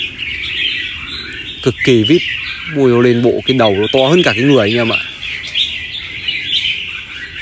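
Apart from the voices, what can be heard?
red-whiskered bulbul singing in a cage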